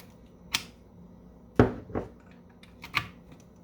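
A ThruNite TC20 Pro flashlight's head and tail cap being screwed down: three sharp, close clicks and clacks of metal threads and parts, spaced apart across a few seconds with quiet between.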